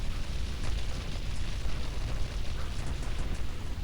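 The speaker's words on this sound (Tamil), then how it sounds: "அப்படியே நம்ம வச்ச 3 பாமும் வெடித்து செதறிடுச்சு" Bombs blowing up in GTA Vice City, a dense continuous rumbling roar of explosions with crackling debris, steady and loud throughout with no talk.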